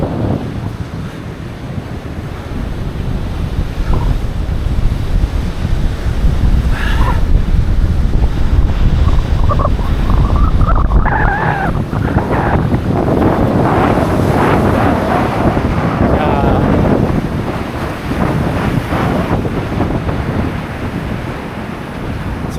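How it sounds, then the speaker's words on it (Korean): Ocean waves break steadily on Goraebul beach in Korea, a continuous loud wash of surf mixed with strong gusting wind buffeting the microphone, with no voices. "파도도 멋지고"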